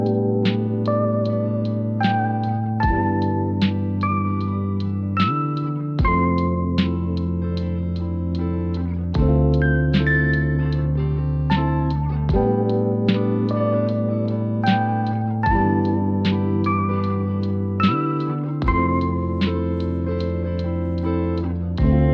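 Piano chords played through a Moonchild reverse delay effect within a song, with sustained harmonic tones and swelling reversed echoes rising into each new chord, loud and steady with no talking.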